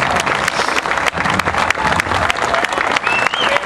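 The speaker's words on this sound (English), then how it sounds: "Let's give him a round of applause." A crowd at a Veterans Day event in The Woodlands, Texas applauds a returning Afghanistan veteran. Loud, close clapping with sharp individual claps is heard, a whistle cuts through near the end, and crowd noise rises underneath.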